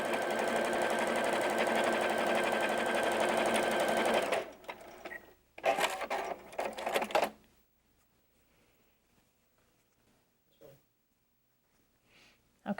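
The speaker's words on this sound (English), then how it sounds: "I'm just letting the machine take the fabrics through and sew my straight seam." A sewing machine runs a straight seam through pieced fabric, a fast, steady mechanical whir for about four seconds, then a shorter burst of stitching, followed by quiet handling noises.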